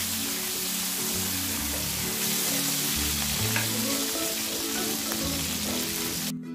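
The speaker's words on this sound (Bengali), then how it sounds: "আমি সব কটা কাঁচা কলা দিয়ে আমি ভেজে নিব।" Raw banana slices fry in hot oil, a dense crackling sizzle like rain on a surface with occasional stirring clicks, loud and steady throughout and cutting off abruptly at the end; nobody speaks.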